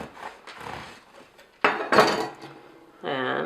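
A knife cuts down through a rainbow cupcake in a quiet kitchen, giving a brief scraping crunch near two seconds amid soft handling clatter, followed by a steady rustling noise at the end.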